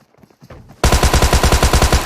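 Gunfire in PUBG on the Georgopol map: after a quiet moment, a close, loud rapid burst of automatic shots in an even rhythm, about a dozen rounds.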